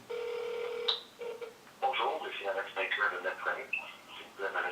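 Telephone call being placed: a steady dial tone and ringback tone for about a second, then short tone bursts, followed by a recorded voicemail greeting speaking over the line.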